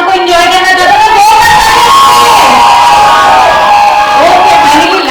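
A lively crowd at a wedding sangeet cheers and whoops loudly for the full stretch, with high excited voices and shouts forming a dense, continuous roar. No clear separate claps stand out.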